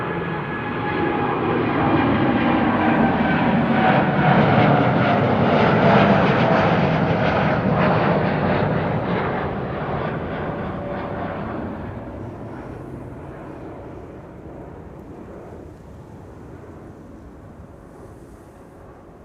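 An Air Europa Boeing 787 Dreamliner jet bound for Madrid at Amsterdam Schiphol Airport, a loud broad engine roar swelling and then slowly fading as it passes and moves away, with no voices.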